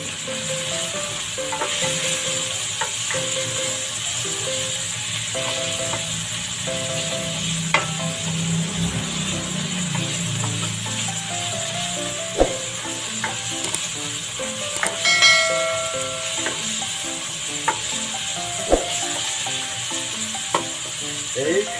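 Chopped tomatoes sizzling and frying in a pan while being stirred, a steady close hiss with scattered scraping and tapping of the spoon against the pan, no voices.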